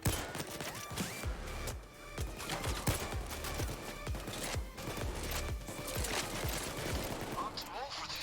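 Automated turret firing in the Payday 2 heist shooter, rapid dense bursts of gunfire throughout, fairly faint and mixed with other game sounds, with players talking over it.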